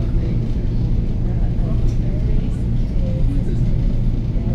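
Steady low rumble inside a moving New Jersey Transit train, a constant rolling drone heard from within the carriage with no distinct beats.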